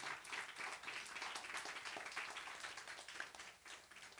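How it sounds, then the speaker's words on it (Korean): A church congregation gives a faint, steady round of applause for a child, dense clapping from a distance with almost no talk. "박수 한번 해줘요"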